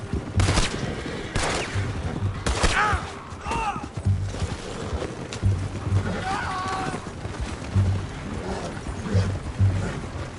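Gunfire erupts in a Red Dead Redemption 2 shootout, several sharp shots and bursts scattered across the scene amid dense game noise, shouting voices and music, loud and close.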